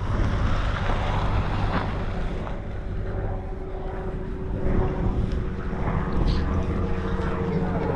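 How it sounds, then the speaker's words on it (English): A steady engine drone of a helicopter in flight at a gliding and flying club airfield, mixed with wind buffeting the microphone and some faint voices in the background. "Got a helicopter flying."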